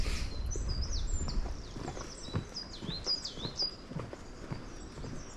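Several birds chirp and whistle in quick, rising and falling phrases in an English forest, fairly clear against soft low rumble and a few hoof-like clops.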